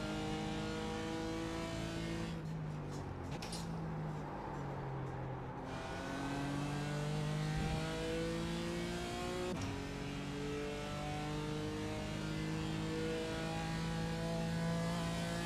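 A BMW GT4 race car in the iRacing sim revs and shifts through gears, its engine note rising and dropping repeatedly in close, continuous in-car sound with a brief quieter gap midway.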